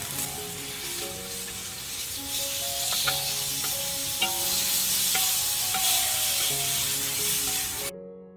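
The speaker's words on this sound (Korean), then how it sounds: "여기에 준비해 놓은 햄을 올려서 볶아주세요" Ham sizzles in a hot frying pan while being stir-fried for mung bean sprout egg kimbap, a steady close frying hiss with scattered light scrapes and taps of a utensil against the pan, no talking.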